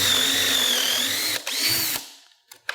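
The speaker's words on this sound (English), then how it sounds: "I drill the hole and pop it out" A power drill whines steadily up close for about two seconds while drilling a hole in a wooden cabinet door, briefly dipping mid-run, then stops, followed by a few small clicks.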